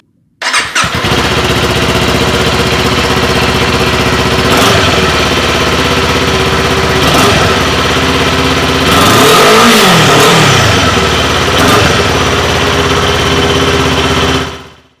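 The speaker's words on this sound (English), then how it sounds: "we're going to give a listen to this stock exhaust before we get started." Stock exhaust on a Kawasaki Z400/Ninja 400 motorcycle starts up, idles loudly and steadily, then gets several sharp revs, one longer rising-and-falling rev in the middle, before shutting off near the end.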